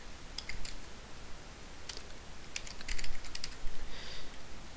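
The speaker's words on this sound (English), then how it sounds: "You're gonna type in net.connect." Quick clusters of computer keyboard keystrokes while entering a server connect command for a Rust game server, light clicks coming in short irregular bursts over a low steady background hum.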